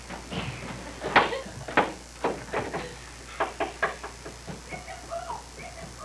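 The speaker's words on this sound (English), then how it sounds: "Shut the door!" A door being shut during a college stage production of the farce Box and Cox, heard as a series of close knocks and wooden thumps spread across several seconds.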